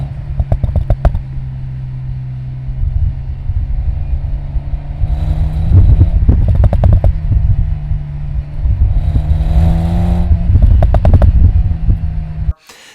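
A 2021 Toyota Supra with the 4-cylinder engine under hard acceleration, loud close engine drone rising in pitch through repeated pulls, broken by shift gaps and a few sharp clatters.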